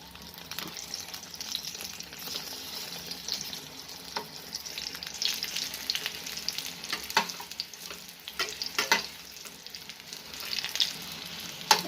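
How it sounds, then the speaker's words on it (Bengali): Eggplant slices fry in shallow oil in a small pan, giving a continuous close sizzle with scattered pops and crackles that swell and fade over several seconds. "তাহলে বেগুনগুলো সম্পূর্ণ ভেজে নিলাম"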